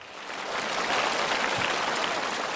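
Studio audience applause on a televised Chinese-language quiz show, a steady broadband clapping wash that swells in over the first half second and holds at an even level with no talk.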